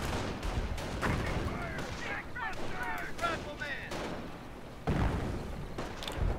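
Mortar blasts and machine-gun bursts rattle through a WWII strategy game battle on the city outskirts, dense repeated impacts at moderate distance beneath a commentator's voice.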